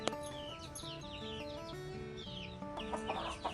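Free-range village chickens cluck and chatter continuously, several birds close by with overlapping calls, fairly quiet overall with a steady farmyard background.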